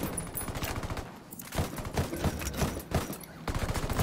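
Rapid gunfire from a Ghost Recon Wildlands firefight, with dense bursts of automatic shots crackling throughout and a short lull near the middle before the shooting resumes hard and close.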